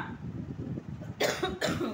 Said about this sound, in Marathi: खोकला पण यायला लागलाय.